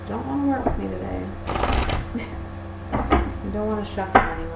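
Crisp papery riffling bursts of tarot cards being shuffled, a loud flurry in the middle and shorter ones after, with a voice talking throughout.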